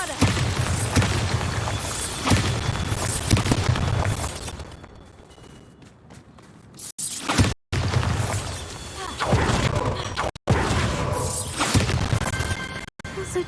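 Bombarda explosion spell in Hogwarts Legacy: booming blasts with crashing, shattering debris and whooshes, loud and dense, with a short quiet lull partway and brief cut-outs.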